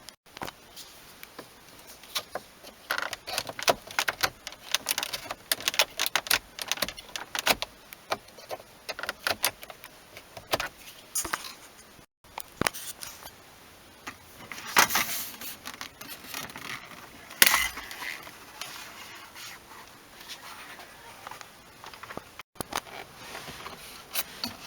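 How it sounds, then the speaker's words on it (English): Plastic pry tools popping trim panels off the dashboard of a Mazda CX-5, making irregular clicks, snaps and scraping plastic rattles, close and moderately loud, with a few sharper cracks. "use the plastic prying tools to remove the panels on this one and this one"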